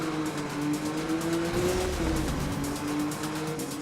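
A race car's engine drones loudly in Need for Speed Rivals, its pitch sliding up and dipping as nitrous boost kicks in. The whine is steady and continuous, with no voices over it.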